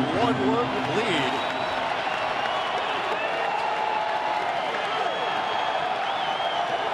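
A baseball stadium crowd in San Diego cheers for pitcher Dale Thayer against the Braves, a sustained loud roar of clapping and shouts. An announcer speaks over it at the start.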